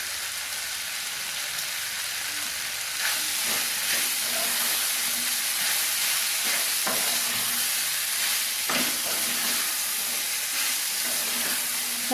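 Mixed vegetables for a vegetable biryani sautéing in a pan, a steady close sizzle and hiss with occasional stirring scrapes and clinks, continuous and without talk.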